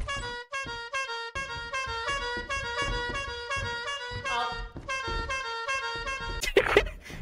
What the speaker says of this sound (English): Your manager is walking around honking a clown horn.